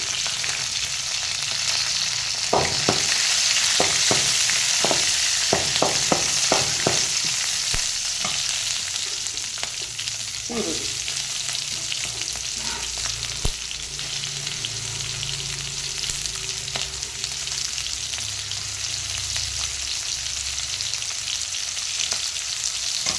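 Mustard seeds, curry leaves and green chillies frying in hot oil for a tempering, a steady loud sizzle with quick crackling pops early on, close by and without talk.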